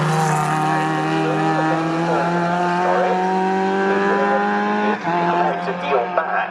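Historic C class Sports 2000 race cars scream past at Snetterton circuit, a loud sustained engine howl with shifting pitch as several cars run close together, with a sharp gear change near the end and commentary over it.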